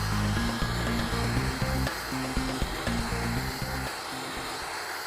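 Abrasive blast cleaning on steel gives a constant loud hiss of grit spraying from the nozzle, with a low pulsing tone under it, fading slightly toward the end.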